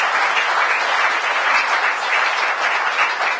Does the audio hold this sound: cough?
no